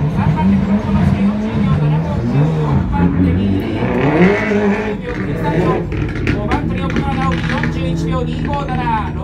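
A rally car in a JAF All-Japan Dirt Trial Championship round at Kiriyanai blasts across a gravel course, its engine revving loud and continuous with shifting pitch, while a commentator talks excitedly over it throughout.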